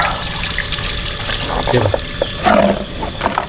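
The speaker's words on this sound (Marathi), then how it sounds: "असं पाणी काढायचं" Water is poured off while cleaning dried fish, giving a close, splashy trickle and gurgle with a few louder spills over a noisy outdoor background.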